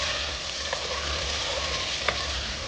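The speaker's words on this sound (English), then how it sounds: "we'll fry these potatoes till they are golden brown in color" Potatoes coated in turmeric and salt fry steadily in hot oil, giving a continuous close sizzle with a couple of faint clicks from a stirring utensil.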